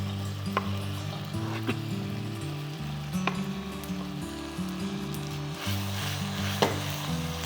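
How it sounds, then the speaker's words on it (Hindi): Surti-style muthiya of luni bhaji are tipped into a sizzling sugar and lemon seasoning and mixed, giving a continuous close frying hiss with occasional spoon clinks, over a steady low hum. "ये जो मुठिया हमने बनाया था वो हम इसमें डाल देंगे।"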